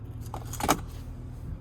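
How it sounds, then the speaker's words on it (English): A Nissan key fob for a 2025 Pathfinder Platinum with remote start jingles briefly as the keys are handled up close, one short metallic rattle peaking in the middle of a quiet moment. "here's your key fob with remote start."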